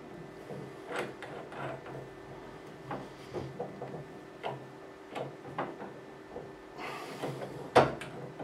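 Wooden drawers and cupboard doors clack, slide and knock repeatedly in a workshop during a search for a chuck key for a guitar restoration, a run of close irregular thuds and rattles ending in a sharper clatter.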